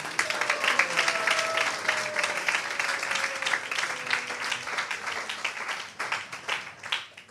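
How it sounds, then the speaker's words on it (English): A gathered audience at a pilgrimage welcome session claps warmly, with brisk, evenly sustained applause that thins out near the end while a voice sounds briefly through it. "So let's give him a big round of applause"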